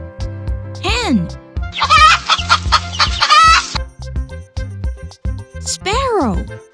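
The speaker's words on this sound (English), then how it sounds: "hen" A hen clucks in a rapid, busy burst in the middle, heard over a background music track, with a voice speaking briefly at the start and again near the end.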